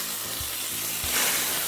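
Chicken pieces hitting a hot pan and frying, a loud, steady hiss with a few soft thumps as pieces are laid down and the sizzle swelling near the end.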